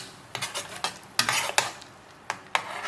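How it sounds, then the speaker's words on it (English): A spoon stirs chopped coriander leaves into a pot of just-boiled Bangalore-style rasam, giving a string of close, sharp clinks and scrapes at an uneven rhythm with short pauses, and no talking. "I'm going to stir in about a tablespoon of chopped coriander leaves"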